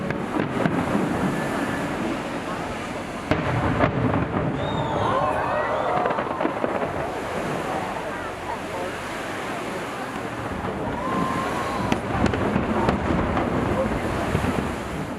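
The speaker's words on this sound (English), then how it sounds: "the Nagaoka fireworks were introduced at the Honolulu Festival" Nagaoka fireworks at the Honolulu Festival burst over the waterfront, distant booms and crackles rolling under steady wind and surf noise, with faint crowd sounds and whistling shells throughout.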